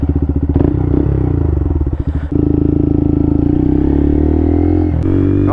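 A Honda Monkey bike fitted with a loud Yoshimura exhaust pulls away, its close, throaty single-cylinder engine burbling and thrumming with a few clattering shifts in load.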